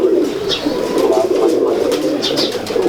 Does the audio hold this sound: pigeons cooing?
yes